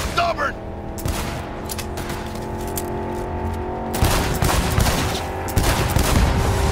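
Rapid gunfire in Cyberpunk 2077, a combat fusillade of overlapping shots and machine-gun bursts mixed with a droning engine-like hum, heavier volleys at about four and five and a half seconds, with someone talking in between.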